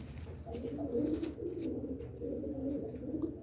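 Pigeons coo in a steady, continuous low murmur of overlapping calls nearby, with faint chirps above.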